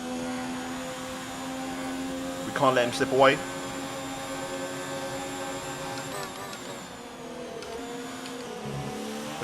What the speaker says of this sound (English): I'm going to have to turn the engine up.